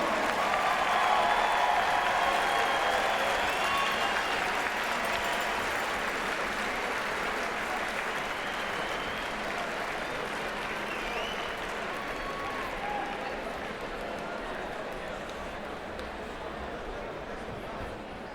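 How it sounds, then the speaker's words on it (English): Crowd applause fills a college hockey arena at the Houston Fieldhouse for returning RPI men's hockey alumni, loud and sustained from the start, then easing slightly but continuing steadily throughout. "Let's have a great round of applause for your returning RPI hockey alum."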